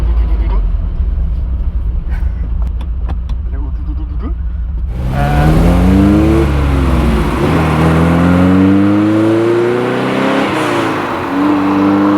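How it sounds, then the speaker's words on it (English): A Ferrari 308 engine with a new sports exhaust revs up after a quieter idle, its exhaust burbling and rumbling with rising and falling pitch, loud and close. "It's got a nice burble in the background, which it didn't have before"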